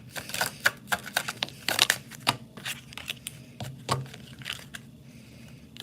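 Tarot oracle cards are shuffled by hand in quick, uneven riffles and soft snaps, close and fairly quiet, with short pauses between bursts.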